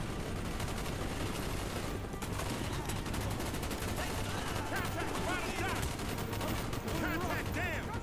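Gunfire in the Call of Duty: Black Ops campaign mission Victor Charlie, a dense continuous fusillade with machine gun bursts, loud and sustained throughout, with battle chatter and voices mixed into the din.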